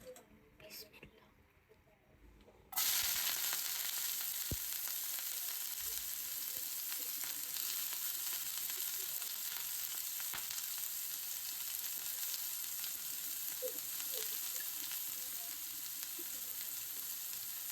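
Onions hitting a hot pan and frying, a sudden loud hiss that settles into a steady close sizzle with a few pops, after a quieter moment of faint kitchen noise.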